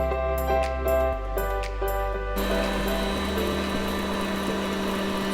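Stand mixer running at high speed whipping marshmallow mixture, a steady loud motor whine with a strained mechanical rattle that shifts pitch partway through, continuous with no talking.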